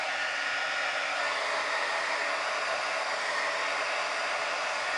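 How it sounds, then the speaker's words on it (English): Heat gun blowing hot air onto fabric edges, a steady loud hiss-and-whir that holds constant and close throughout with no voices. "Let the heat gun work its little bit of magic on the edges."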